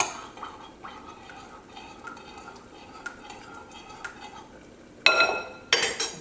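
Vinegar, salt and pepper being stirred into a dressing in a bowl in a home kitchen, a steady soft scraping and clinking of a utensil against the bowl, ending in louder clatters of dishes.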